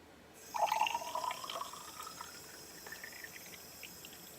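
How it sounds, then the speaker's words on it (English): Water poured into a container to refill it over settled sediment in a veterinary lab, a soft splashing fill starting about half a second in and easing into a gentle trickle, quiet and close. "And then I'm going to refill it with water."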